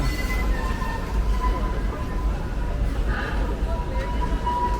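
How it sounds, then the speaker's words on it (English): A roller coaster train at Six Flags St. Louis rumbles past with a steady roar and faint metallic squeal, loud and continuous throughout the clip. "There goes the train."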